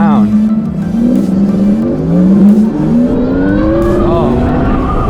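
Motor whine from an electric motorcycle, Sondors Metacycle or Ryvid Anthem, rising and falling in pitch as it accelerates, loud and close, with talk over it.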